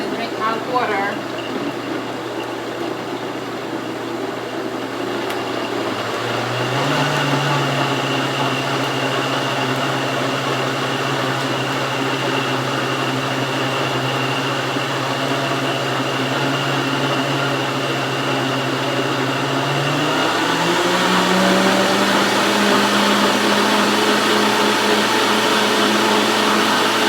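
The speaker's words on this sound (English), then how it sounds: "Blender noises." A kitchen blender runs continuously with a steady mechanical whir, loud and close, its pitch shifting upward twice as the motor speed changes, lasting nearly half a minute.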